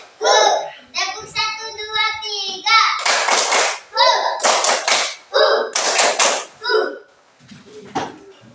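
Schoolchildren in a classroom clap in short rhythmic bursts on a count, sharp close slaps alternating with their chanted voices across several seconds.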